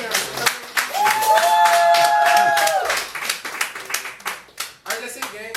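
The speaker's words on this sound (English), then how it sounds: "And clap it up for your dope poets" An audience claps for poets at a poetry reading in a living-room venue, a steady wash of close, dense handclaps that thins toward the end, with voices and a sustained tone briefly overlapping.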